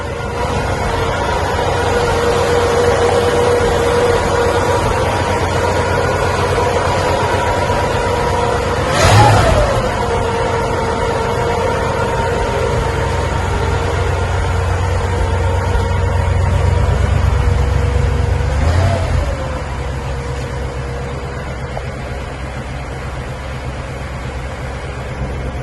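A 1958 Cadillac Eldorado with a custom, factory-quiet exhaust runs smoothly at a steady idle close up, with a brief rev near the middle and another soft swell later, no voices.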